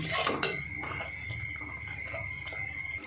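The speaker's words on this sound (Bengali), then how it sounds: "মশলাটা ভালো করে কষিয়ে নেব, যতক্ষণ না তেল ছাড়ছে ততক্ষণ আমার কষাতে হবে" Spice paste for a potol and peanut curry stir-fried in a pan until the oil separates, with a sharp opening clank followed by soft scraping and occasional light knocks of a spatula over a faint sizzle.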